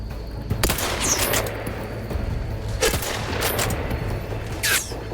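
Gunfire in the video game The Outer Worlds 2 on very hard difficulty, with several loud bursts of shots and booming reports spread across the stretch over a steady background hum, and no talking.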